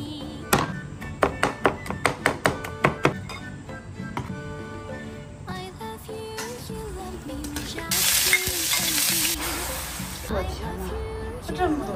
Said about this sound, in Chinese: 一会儿就把小洋葱丝戳一下，炒一下